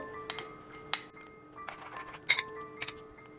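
A milk powder sweet mixture being stirred in a pan, with bright clinks of a utensil against the pan, several sharp taps at irregular intervals over a soft background.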